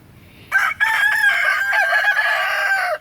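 Chickens and a rooster at a backyard coop: a steady, loud, strained crow carries across nearly three seconds, with clucking mixed in, close and without speech.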